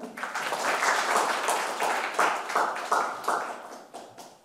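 Audience at a carbon-neutral technology forum claps for a welcome address, a fairly distant, steady wash of applause that swells, then thins and fades toward the end.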